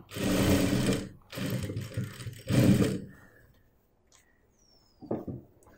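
A sewing machine stitches a bag made from jeans in three loud, steady bursts of a few seconds each, with short pauses between them, then quieter handling noises and one brief final run.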